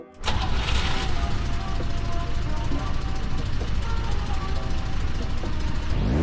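A loud, continuous Lancia Stratos sports car engine roar in a video game holds steady at close range, with a rising whine just at the end.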